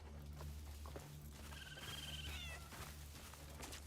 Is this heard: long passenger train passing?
no